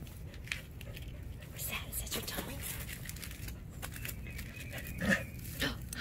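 A puppy pants softly and shuffles around close by, with rustling and crinkling from its movements and a brief louder snuffle near the end, faint voices murmuring in the background.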